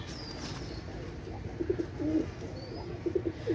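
Oman Teddy pigeons, both males, give soft low cooing calls in short bursts over a quiet room-tone background, with no talking.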